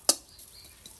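Onions dropped into oil in a cooking pan and stirred with a spoon: one sharp metallic clink up front, then a faint, thin sizzle trailing off briefly.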